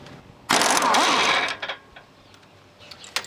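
A ratchet spins off a castle nut on a truck's front axle during an axle swap, a burst of rapid clicking and metallic whirring for about a second, then quieter scattered taps.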